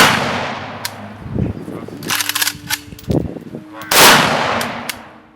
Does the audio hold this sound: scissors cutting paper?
no